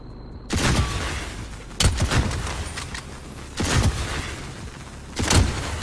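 Video game gunfire with explosive rounds: loud bursts of fire and blasts arrive roughly every two seconds over a constant rumbling din, each burst sharp and then trailing off.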